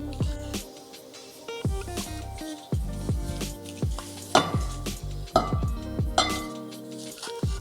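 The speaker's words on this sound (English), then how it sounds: "Just gonna fluff this rice up real quick." Cooked rice being fluffed in a pot, with repeated scraping and clinking of a utensil against the metal pot, irregular knocks and rings close by, fairly quiet overall.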